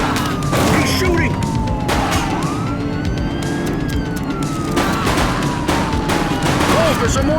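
Gunfire from a suspect in the police video game The Precinct, sharp shots cracking over a wailing police siren and car noise, with voices talking in the mix.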